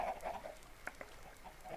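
Minecraft chickens in a farm build give a few short clucks and squawks, scattered and fairly close, with no talk over them.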